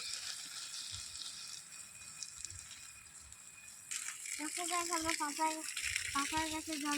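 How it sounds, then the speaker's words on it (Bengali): A small water pump sprays water onto areca palm and jackfruit trees, with a steady gushing hiss that grows louder partway through, and a tonal mechanical whine pulsing over it. "ছোট মেশিন দিয়ে এইভাবে জল দিয়ে দিই"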